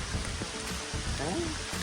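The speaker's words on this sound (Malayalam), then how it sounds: "നല്ല മഴയുണ്ട്, അതാണ് ഇവിടുത്തെ ഒരു ഹൈലൈറ്റ് എന്ന് പറയുന്നത്" Heavy rain pouring down outdoors during a fishing trip, a steady dense hiss that fills the whole moment, with faint voices mixed in beneath it.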